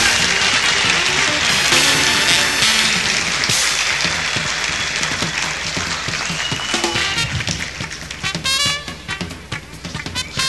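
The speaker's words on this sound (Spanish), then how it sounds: "Un aplauso para ellos, por favor." Audience at a Peruvian blogging awards event clapping for a winning team, applause mixed with background music and scattered voices, thinning out toward the end.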